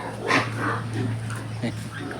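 Pet dogs bark, yip and whimper close by, eager to be fed, in short overlapping bursts over a steady low hum, with a person talking at the same time.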